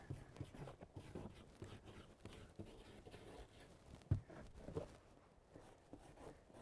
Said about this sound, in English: I'm going to capitalize on the fact that I got all this dirt on the back, and I'm going to write down, vehicle